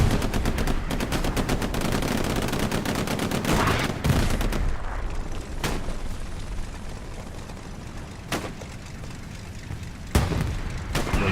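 Dense, sustained gunfire rattles through a large Hell Let Loose battle at El Alamein, with machine-gun bursts, scattered booms and sharp cracks over a loud, constant wall of combat noise.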